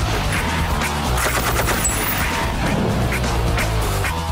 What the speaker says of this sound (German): Für weit entfernte Ziele ist der SAS mit dem M240 Universalmaschinengewehr ausgerüstet.